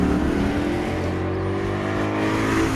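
A Tushek Renovatio T500 supercar engine drones steadily and loudly for the whole stretch, its pitch rising gradually, with no talking.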